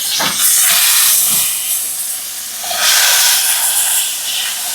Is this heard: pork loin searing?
yes